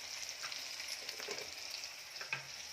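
Cumin seeds sizzle in hot oil for a sambar, a faint but steady crackling hiss with small pops, close by and without talk.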